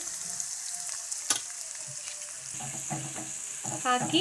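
Grated carrot palya fries in oil while being stirred, with a soft crackling sizzle and scraping strokes, brief utensil clinks and a short spoken word.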